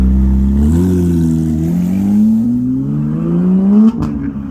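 A 2014 Porsche GT3 engine revs steadily, its pitch climbing gradually over several seconds before cutting off sharply near the end, loud and close with no talk.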